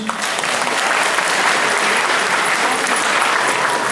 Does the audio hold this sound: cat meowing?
no